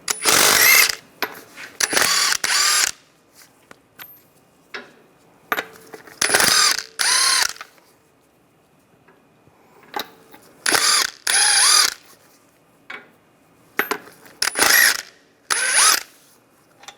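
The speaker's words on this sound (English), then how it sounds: "I'm going to remove the wheel, use a 22mm socket," A ratchet wrench with a 22mm socket loosens lug nuts on the passenger-side wheel of a 2010–2016 Cadillac SRX, giving repeated bursts of loud clicking separated by short pauses.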